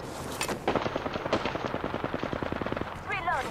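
Rapid automatic gunfire in the Apex Legends battle royale game, firing at the player in a fast, loud burst of evenly spaced shots lasting a few seconds, with a short whooshing effect at the end.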